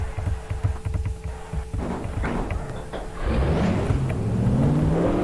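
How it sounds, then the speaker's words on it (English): Race car engines starting at Dover in a racing video game, a rough idling rumble that gives way to a louder, rising rev as the engines build speed toward the end. "Drivers, start your engines."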